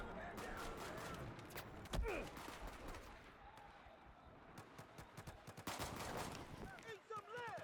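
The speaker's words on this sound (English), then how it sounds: "Shotguns up, shooting with the PCR." Battlefield 4 gameplay with shotguns and a PCR rifle: rapid bursts of loud gunshots, sharp cracks in quick strings separated by brief gaps, with game effects between volleys.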